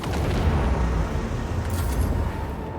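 Twin-linked cannon fire from a ship in the video game Rogue Trader, a continuous heavy rumble of booms with no break between them, loud and sustained.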